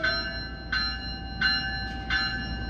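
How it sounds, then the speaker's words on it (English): An eastbound passenger train departs as a blue locomotive pushes six bi-level coaches, a bell-like signal sounding four times in regular, evenly spaced strikes over a quiet rumbling background. "As the eastbound train leaves the scene, we see the engine pushing the 6 bi-levels."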